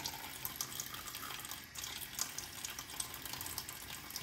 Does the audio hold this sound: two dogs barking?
no